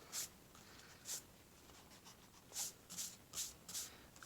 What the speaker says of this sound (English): Now I'm going to erase.